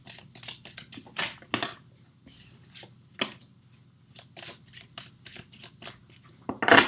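Oracle cards shuffled and laid out by hand, close by, with soft papery riffles, slaps and clicks in irregular bursts and brief pauses between them. No one speaks.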